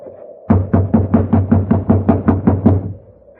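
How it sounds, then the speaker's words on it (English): About ten firm, evenly spaced knocks on a locked door, loud and close, rapping in a steady rhythm for two and a half seconds before stopping. "You just have to keep knocking till he wakes up."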